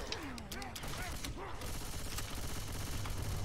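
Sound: gunfire in a shooter video game

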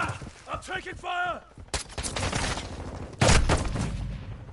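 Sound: gunfire in a video game

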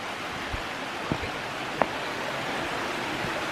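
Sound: creek water flowing on a trail

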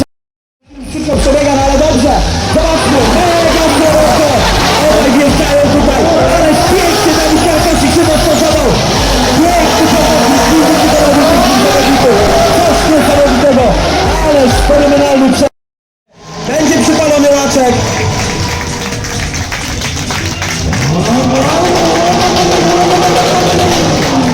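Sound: drift cars revving and sliding at a mountain drifting championship

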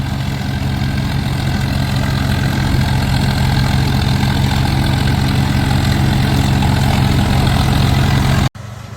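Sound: tractor engine running for straw machine work

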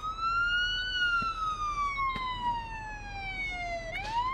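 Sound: police siren wailing, from a video game

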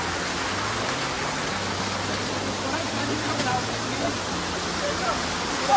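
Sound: hidden hot water waterfall in Konkan

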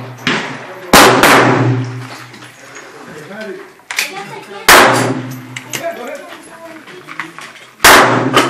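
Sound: rapid fire gunshots

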